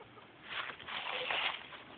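Several chickens squabble and cluck in a short, busy burst of overlapping calls at close range, fairly loud and without any talk.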